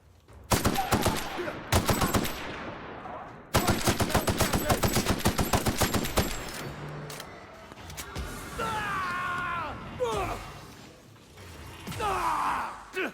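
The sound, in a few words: gunfire in the video game The Outer Worlds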